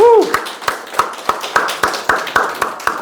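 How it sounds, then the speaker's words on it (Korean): Steady, evenly spaced claps ring out at a church worship service celebrating a blessing ceremony. They come in a regular rhythm of about four per second, crisp and fairly close, after a brief voice at the start. "우리 축하의 박수를 한 번 올려주시길 바라겠습니다"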